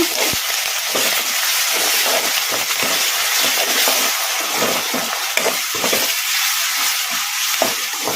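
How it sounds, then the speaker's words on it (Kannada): Ginger garlic paste fries in a pan with a bright, steady sizzle while a spoon stirs and scrapes it in quick, irregular strokes close up, with no talking. "ಈಗ ಅಲ್ಲ ಬೆಳ್ಳುಳ್ಳಿ ಪೇಸ್ಟ್ ಹಸಿ ವಾಸನೆ ಹೋಗೋವರೆಗೂ ಒಂದೆರಡು ನಿಮಿಷ ಈ ಥರ ಕಲಿಸ್ಕೊಂತ ಫ್ರೈ ಮಾಡ್ಕೊಂಬಿಡೋಣ"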